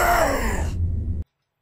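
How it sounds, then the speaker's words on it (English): A video game animatronic's scream as it is pulled apart: a single drawn-out, distorted cry that falls in pitch and cuts off abruptly after just over a second, loud and alone. "Here is Freddy's scream when he's pulled apart."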